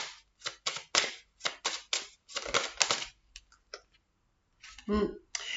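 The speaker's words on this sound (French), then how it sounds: "je vais encore tirer 2 cartes et on va aller au deuxième choix" Tarot cards drawn from a deck during a French card reading, a rapid series of crisp slapping, shuffling clicks in bursts, with a pause before a final louder rustle; a person speaks in between.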